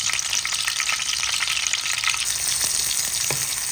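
Onion and garlic sauté in hot oil in a pan for poki-poki, giving a loud, continuous sizzle with occasional stirring scrapes, close and steady throughout.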